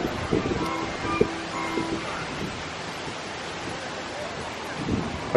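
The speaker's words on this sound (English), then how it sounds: "It's very windy, isn't it?" Wind buffets an outdoor microphone at a food and wine festival at EPCOT, a steady low rumble with occasional gusts. Faint voices and crowd sounds sit underneath.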